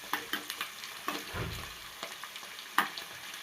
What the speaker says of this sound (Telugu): ఒక నిమిషం మంచిగా ఆయిల్లో ఉల్లిగడ్డలు విడివిడిగా అయిపోతాయి.